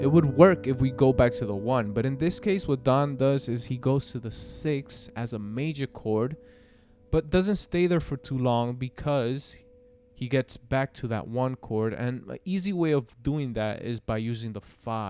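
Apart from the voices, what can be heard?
No everyday noises stand out.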